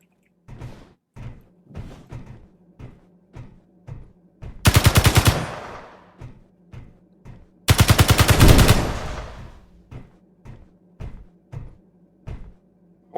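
Gunfire in the space game Space Engineers: a string of single spaced shots, then two loud sustained bursts of rapid automatic fire, with more isolated shots trailing after.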